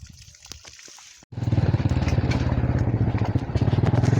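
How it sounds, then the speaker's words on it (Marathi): Steady rushing of a small river flowing through farm fields after a brief quiet start, a continuous close trickle and gurgle with no voices. "छोटीशी नदी वाहती बघा."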